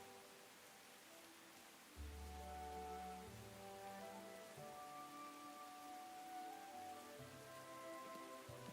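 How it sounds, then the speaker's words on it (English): Steady rain falls in the Tales of the Shire video game, a soft continuous patter with no voices, quiet at first and then sitting beneath gentle game music. "It's raining, it's pouring"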